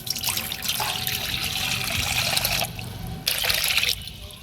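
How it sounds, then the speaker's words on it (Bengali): Water pouring into a cooking pot at a village-style kitchen while making raw banana kopta curry, a steady splashing trickle with a brief pause near the end before resuming. "জল দিতেছি,"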